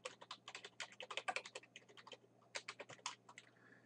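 Rapid, uneven keystrokes on a computer keyboard while entering spreadsheet cell text, clicking in quick bursts with a short pause midway, close and fairly quiet with no talk.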